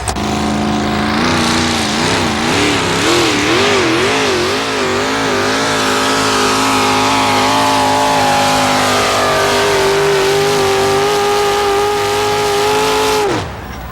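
A loud, heavy pulling tractor engine roars and revs at a tractor pull, its pitch wavering up and down before settling into a sustained drone that cuts off abruptly.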